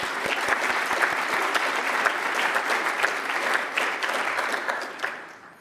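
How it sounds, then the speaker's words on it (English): Sustained audience applause at a university diversity address, a dense, even wash of many hands clapping that carries on for several seconds before fading out at the end, with no talking over it. "Let's applaud that one."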